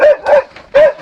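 A dog barks and yelps loudly in a film soundtrack, three close vocal bursts in about a second, the first two close together and the third after a short gap, with no talk over them.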